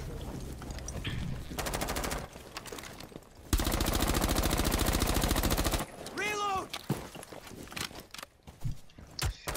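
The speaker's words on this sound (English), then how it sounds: "they're throwing their drones and shooting them in the air" Bursts of rapid automatic gunfire in Rainbow Six Siege as players shoot thrown drones out of the air, two long sustained volleys followed by scattered single shots and clatter.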